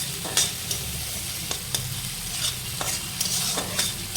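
Cooked rice frying in a pan, a continuous close sizzle with regular sharp scrapes and taps of a spatula stirring, no talking over it.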